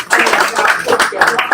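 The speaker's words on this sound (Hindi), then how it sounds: "आप सबकी तालियों में शाहिद हाशमी।" A live audience at a Canadian stage talk show breaks into loud, dense, steady clapping that fills the whole moment without a pause.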